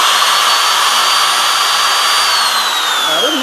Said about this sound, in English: So I'm just going to drill this hole